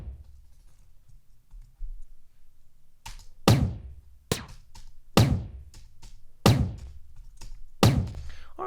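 A layered, designed gunshot effect fires five times with even spacing, each a sharp, loud crack with a short decaying tail, set against near silence.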